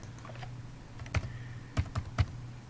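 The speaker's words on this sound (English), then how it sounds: "Type in the name of your group" A few keystrokes on a computer keyboard as a group name is typed, light isolated clicks clustered near the end over a quiet room hum.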